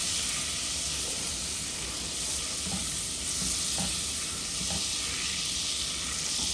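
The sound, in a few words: butter melting and sizzling in a hot pan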